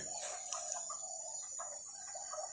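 Chickens clucking softly at a distance, a few short calls scattered over a steady high-pitched background hum.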